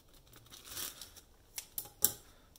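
Scissors snip through the edge of an evidence bag in a few short, crisp cutting and crinkling sounds, faint and close, with plastic rustle between the cuts.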